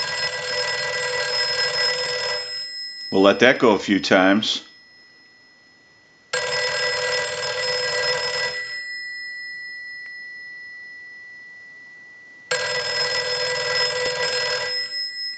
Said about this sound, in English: Now the bell circuit was repaired and the bells were adjusted. So let's go ahead and send a ring cycle.